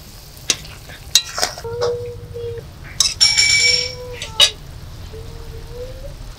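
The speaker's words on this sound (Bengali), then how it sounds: "এবার ভেজে রাখা মাছগুলো সব ঝোলের মধ্যে দিয়ে দেবো।" Fried bhola fish slides into a sizzling mustard gravy and gets stirred in the pan, with sharp utensil clinks and scrapes over a steady low bubbling, close by.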